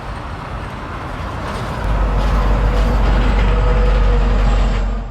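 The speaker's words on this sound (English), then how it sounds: "There's a lot of trucks and cars that are passing by." Steady roar of road traffic in Savannakhet, Laos, with heavy trucks and cars passing and a deep rumble swelling louder midway, continuous and fairly close.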